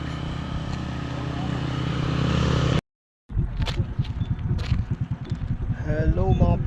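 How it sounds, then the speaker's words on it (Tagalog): A TMX 155 motorcycle engine running, a steady mid-pitched drone that cuts out briefly and then returns with rougher pulsing, and someone talks over it. "Ang dala kong motor ngayon dito, TMX 155."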